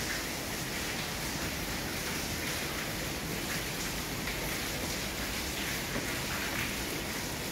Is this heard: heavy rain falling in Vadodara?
yes